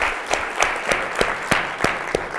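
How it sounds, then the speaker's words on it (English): Conference audience applauding, a short burst of fairly steady claps with regular sharp peaks, moderately loud and without talk. "can y'all just help me give them a round of applause?"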